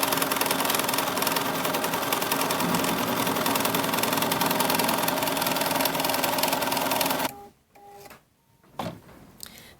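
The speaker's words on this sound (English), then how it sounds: "Now that the machine has finished tacking down my batting" An embroidery machine tacks batting onto a quilted table topper, a loud continuous mechanical hum and rattle for about seven seconds that stops abruptly, followed by a few scattered clicks and knocks.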